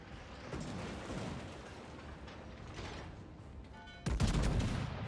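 Warship guns in a naval combat game, a distant rattle of secondary battery fire and mechanical clatter, then a sudden loud booming main salvo near the end.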